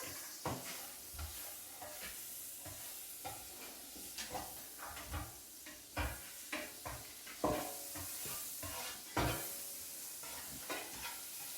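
Butter sizzling in a frying pan while tattie scones are cooked, a soft steady hiss broken by scrapes and clinks of a utensil spreading it around, fairly quiet and close.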